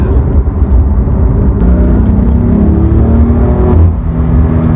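A BMW M4 engine revs hard and steadily with a dense, throaty drone, close and loud, then gives a short exhaust bark near the end, with no voices.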